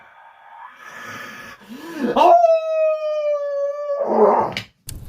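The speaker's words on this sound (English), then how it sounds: "waited for the howls to become more distant" A werewolf's drawn-out howl in a children's fairytale, a long, steady tone rising to a sustained note before breaking off, loud and near, with breathy whimpers and growling sounds around it.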